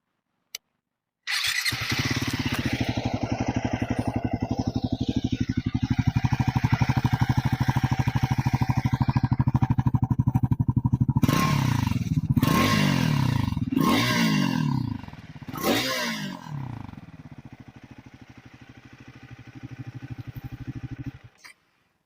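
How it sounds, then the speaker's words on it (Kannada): A Triumph Scrambler 400X motorcycle starts up and settles into a loud, close idle exhaust note, with several rising revs in the middle before dropping back to a steady idle and cutting off. "ಸೊ ಏನ್ ಮಾಡೋಣ ಅಂದ್ರೆ ಇವಾಗ will just start the bike."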